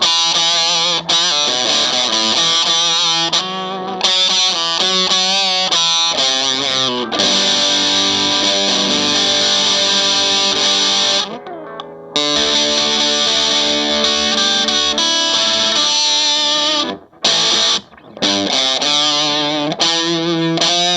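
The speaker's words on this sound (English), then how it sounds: "I'm going to switch over to some overdrive, distortion kind of sounds" A Johnnie Ferro Minarik Furii electric guitar on its bridge pickup plays sustained overdriven, distorted chords and riffs, loud and thick, with a few brief pauses between phrases.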